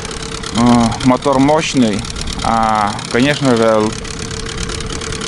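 A Mikatsu 9.8 two-stroke outboard motor on its first break-in day hums steadily underneath, partly masked by someone talking loudly over it.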